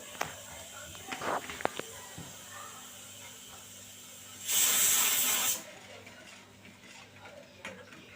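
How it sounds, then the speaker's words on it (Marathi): Turmeric and red chilli masala sizzles in a pan over medium flame, giving a steady frying hiss that surges loudly for about a second midway. Faint clinks and small kitchen noises sit around it, and no one speaks. "मसाला जो आहे तो व्यवस्थित फ्राय करून घ्यायचा"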